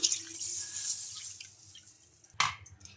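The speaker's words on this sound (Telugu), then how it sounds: "ఈ పెసల్ని రెండుసార్లు శుభ్రంగా వాష్ చేసుకోవాలి ఇంకా ఇలా వాటర్ అయితే వేసుకొని బాగా శుభ్రంగా వాష్ చేసుకుందాం" Green gram is rinsed in a bowl as water trickles and drips in, ending with a brief, sharper splash; the sound is close and fairly quiet with no talking.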